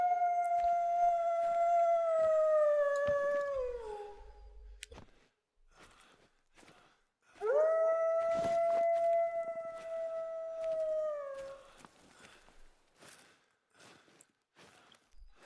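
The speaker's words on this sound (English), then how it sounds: "Or what the howls mean, because that did sound pretty close to us." In theHunter: Call of the Wild, Askiy Ridge, an animal lets out two long, sustained howls fairly close by. Each holds a steady pitch, then slides down at the end, with a pause of faint rustling between them.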